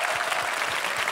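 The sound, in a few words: applause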